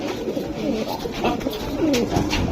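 Several pigeons, Giribaz and Bezi breed pigeons offered for sale, coo in low, throaty, overlapping murmurs, close by and continuous, with a faint rustle of wings and no talking.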